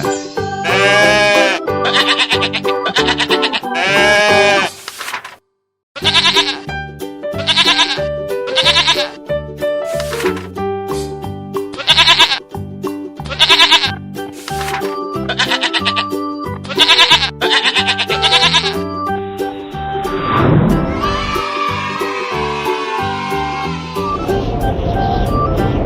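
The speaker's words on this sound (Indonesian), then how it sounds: "sheep," Sheep bleating repeatedly in a farm setting, a run of loud, close, quavering calls with a short pause near the middle, ending in a rougher, noisier cry.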